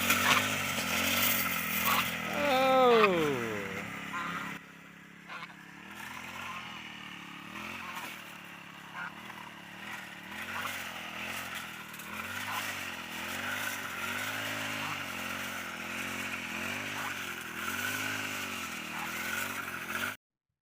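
A grass trimmer's small engine buzzes near and loud, with its pitch rising and wavering as it cuts. Brief revving comes early, and a voice is faintly present.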